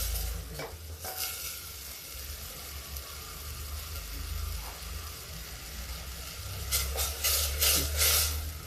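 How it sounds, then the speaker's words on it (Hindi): Masala frying in a pan while cooking dal and vegetables, a steady close sizzle with bursts of stirring and scraping near the start and again toward the end, no voices. "थोड़ा मसाला पक जाता है"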